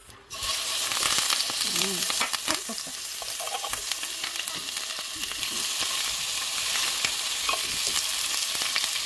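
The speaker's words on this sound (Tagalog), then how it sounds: "And then, ilagay na natin yung ilaga nating pork ribs." Boiled pork ribs go into a pan of hot oil and fry with a steady, dense sizzle and crackle that holds close and loud, with occasional stirring and scraping and no talking.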